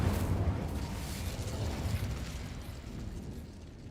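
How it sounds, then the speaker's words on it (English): A rumbling, whooshing burst of flame from the Incendio fire spell in Hogwarts Legacy, loud and low-heavy at the start, then tapering into a steady roar that fades. "Incendio!"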